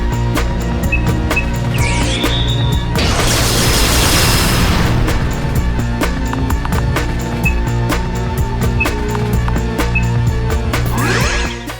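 A dragon gun firing in the fantasy game Last Elysium, a loud sustained roaring blast lasting a couple of seconds amid busy, clattering game sounds and music.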